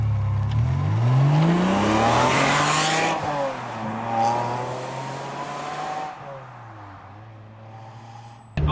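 A Ferrari 550 Maranello with its F133 V12 revs hard on the road, climbing in pitch and then dropping. It eases back to a lower, steadier drone with no talking over it.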